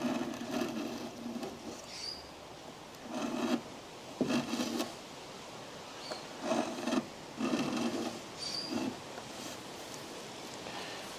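A hand scraper strips old finish from a wooden radio cabinet, held flat against the grain, giving quiet rasping scrapes in short repeated strokes with pauses between, close and alone.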